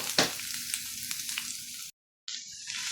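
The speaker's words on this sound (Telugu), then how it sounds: "ఉల్లిపాయలని కొద్దిసేపు కొంచెం వేయించుకున్నాము" Onion pieces frying in a pan give off a steady, bright, close sizzle with a few soft scrapes, briefly cutting to silence before the sizzling resumes.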